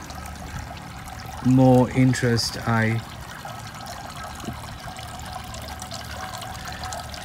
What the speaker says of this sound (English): stuck in a water fountain in the middle of the garden or the rose bed